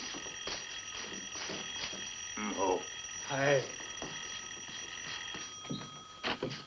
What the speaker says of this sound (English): The bell's ringing